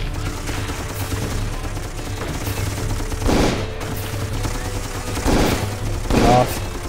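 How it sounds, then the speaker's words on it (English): Grenades exploding amid gunfire in the video game Darkest of Days, with scattered gunshots over a steady background and three heavier blasts bursting out at intervals. "Grenades."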